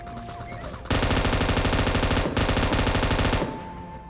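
Gunfire in a shooter video game: a loud, sustained burst of rapid automatic fire lasting about two and a half seconds, with a brief break partway through, then fading into quieter game ambience.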